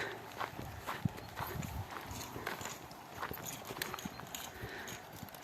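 Hooves of Belgian draft mares clip-clop at a slow walking pace on hard ground, moderately close, with faint background noise and no talk.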